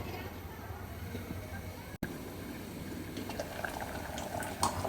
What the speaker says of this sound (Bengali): এই যে আমার ডালটা অনেক সুন্দরভাবে সিদ্ধ হয়ে গেছে, দেখেন।